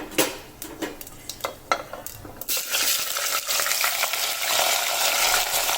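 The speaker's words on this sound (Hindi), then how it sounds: "हमारे पास आधा किलो चिकन है, तो ये डाल देते हैं हम गरम ऑयल के अंदर।" Half a kilo of chicken in hot oil: several sharp utensil clinks and scrapes, then a loud, dense sizzle bursts up as the chicken goes in and stays steady and close to the end.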